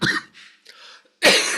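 A man coughs during a Buddhist sutra lecture: a rough burst at the start, two softer hacking sounds, then a loud, harsh cough close to the microphone at the end.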